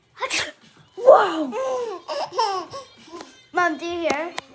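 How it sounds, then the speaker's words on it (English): A child's playful, exaggerated sneezes, repeated in a sing-song pattern and mixed with giggles and laughter, close and lively, with voices talking between them. "Achoo, achoo, achoo, whoa."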